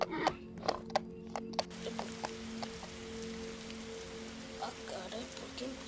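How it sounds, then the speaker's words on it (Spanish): Rain beginning to fall again in a survival video game, a soft continuous patter of drops on surfaces under a faint steady hum, with a few sharp clicks and taps early on and no talking. "¿por qué empieza a llover de nuevo?"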